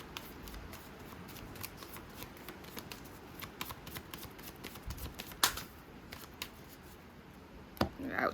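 A deck of affirmation cards is shuffled close up, a quiet run of rapid riffling flicks and soft taps with a few sharper snaps.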